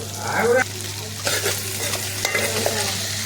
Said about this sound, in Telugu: దొండకాయలు వేసి మంచిగా కలిపి మూత పెట్టుకోవాలి